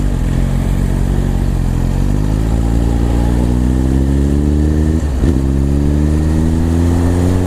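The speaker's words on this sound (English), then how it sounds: "That exhaust sounds absolutely beast." A 2017 Suzuki GSX-R1000 sport motorcycle idles loudly up close, then revs upward and drops back, rising again in a throaty, aggressive exhaust growl.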